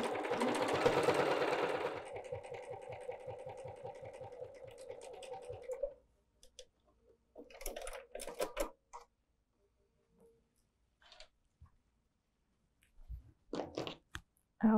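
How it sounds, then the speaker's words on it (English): A sewing machine stitches a 1/8 inch seam allowance on a fabric bowl cozy, running fast and steady for about six seconds, then falling to quieter bursts of handling and clicks. "let's go sew our 1/8 inch seam allowance and our bowl cozy will be complete."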